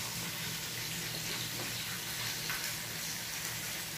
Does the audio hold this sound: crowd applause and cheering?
no